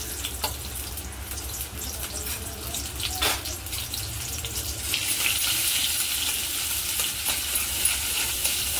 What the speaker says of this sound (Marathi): तर त्याच्यामध्ये टाकू एक कांदा मोठा बारीक चिरलाय.